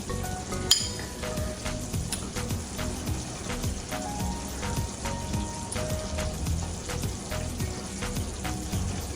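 Eggs crackle and spit in a pan amid scattered kitchen clinks and taps, a busy mid-level sizzle with a sharp clatter near the start.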